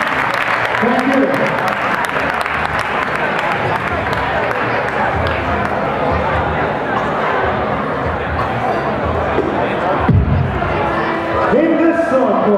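Crowd applause and cheering fill a dance battle circle at Soul On Top 2013, dense and continuous throughout, with a loud burst near the end and shouts and chatter mixed in.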